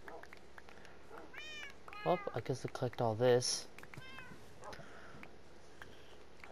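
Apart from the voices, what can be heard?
cats meowing in Minecraft video game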